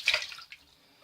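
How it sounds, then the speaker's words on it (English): Brief, faint splash of water as a face is wetted before shaving, a soft quick slosh that fades to near silence within a second. "I'm going to wet my face again as I was setting up"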